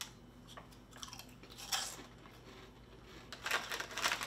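Spicy, sweet corn chips crunched up close, with irregular bursts of chewing that grow louder and denser near the end, and no talk.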